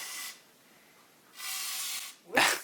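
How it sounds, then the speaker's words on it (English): Two short hissing bursts from a WD-40 lubricant can spraying onto a 2007 GSX-R 600 motorcycle during an exhaust install, followed by a brief knock. "Just spray it. let's just spray."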